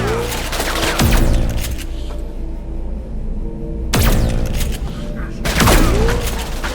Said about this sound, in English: Time to bring out the robot blaster.